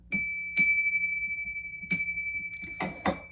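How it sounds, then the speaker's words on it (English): A bell rung several times, with sharp, clear strikes around the start and middle whose bright tones ring on, followed by a couple of duller, noisier hits near the end, all close and with no talk. "We got to ring the bell for that."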